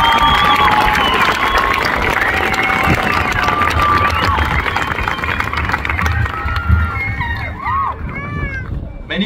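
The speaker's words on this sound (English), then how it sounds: "let's have a big round of applause for the class of" A crowd at the Cobre High School class of 2024 graduation cheers and claps, a loud, dense wash of applause and shouting running steadily before easing off near the end.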